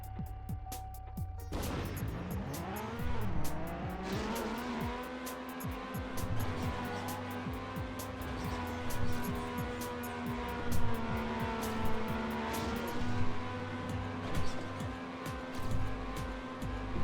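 Racing car in the Trackmania Nations Classic video game with a beta physics mod, its engine droning steadily and rising in pitch as it accelerates, with tire screeches and sharp crash or impact noises scattered throughout.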